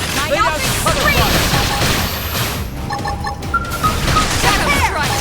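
Rapid gunfire bursts crackle through a busy Xenoblade Chronicles X battle, mixed with shouted combat voices and other effects, steady and loud throughout.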